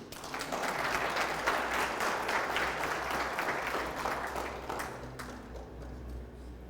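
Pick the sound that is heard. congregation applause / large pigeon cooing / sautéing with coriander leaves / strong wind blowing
congregation applause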